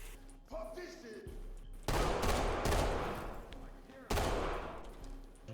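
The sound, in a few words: gunfire in Ready or Not video game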